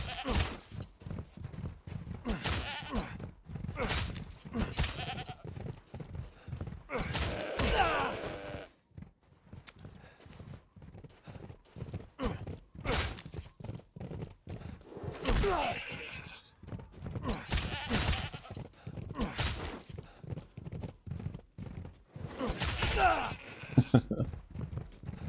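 A goat bleats several times in the video game Resident Evil Village, its cries mixed with game sounds and someone talking over them.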